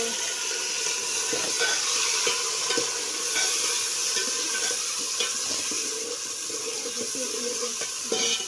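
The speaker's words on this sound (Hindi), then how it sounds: "अच्छी तरीके से हिला लूँगी।" Aloo gosht masala being stirred in a frying pan, a steady scraping and gentle sizzle with soft repeated spoon knocks running continuously, close up with no talk.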